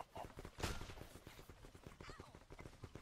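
Rapid bursts of gunfire crackle through a blocky first-person shooter match in Block N Load, dense and continuous for three seconds, with no voices.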